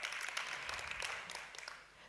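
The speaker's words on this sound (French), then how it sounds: "on l'applaudit bien fort" An audience applauds to welcome a guest speaker at a French-language talk, with steady, moderately faint clapping throughout the short stretch.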